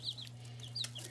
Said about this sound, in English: And I have 6 baby chicks.